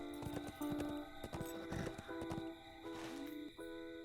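Horse in the fantasy online role-playing game The Lord of the Rings Online, with a run of hoof clip-clops, a possible neigh and layered game music and tones, steady and moderately loud throughout.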